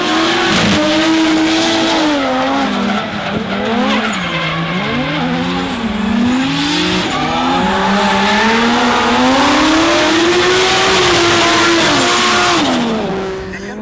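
Drift cars, among them a Nissan S15, battle at D1NZ Pro-Am in Taupo. Loud, close engines rise and fall continuously with heavy revving and sustained tire squeal as the cars slide through the run.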